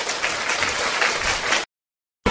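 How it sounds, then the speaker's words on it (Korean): Dense audience clapping at a church gathering, loud and continuous for about a second and a half, then cutting to silence before briefly resuming at the end. "박수 한번 칩시다."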